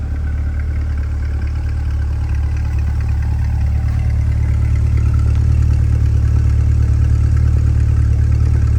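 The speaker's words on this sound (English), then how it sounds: "Nice sound to that exhaust." A 2021 Chevrolet Corvette Z51 sports car exhaust idles with a steady, deep low rumble, constant and close, no voices over it.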